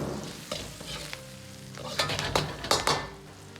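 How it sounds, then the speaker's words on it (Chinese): Pork stir-fried in a wok with scallions, garlic and thirteen-spice powder sizzles steadily, with bursts of louder crackle and scraping as the ingredients are tossed; no voices. "炒至肉出油脂，表面稍微焦黄，然后放入葱蒜，煸炒出香味。"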